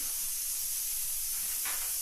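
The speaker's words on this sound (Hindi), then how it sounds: "मेरा आलू उबल रहा है।" A steady, unbroken hiss of a pot of potatoes boiling and steaming, close by, with no voices.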